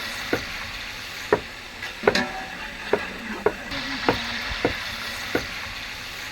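Whole garam masala spices and green chillies are stirred in hot oil for mutton bagara rice, the oil sizzling steadily while a spoon scrapes the pan in sharp, regular strokes roughly once a second, close and clear with no talking.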